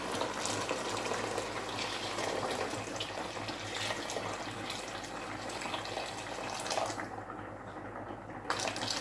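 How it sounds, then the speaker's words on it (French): Previously boiled water poured into a pot of meat sauce for macaroni, a steady faint rushing pour without a break, with no talk. "Je vais compléter, donc je vais rajouter de l'eau."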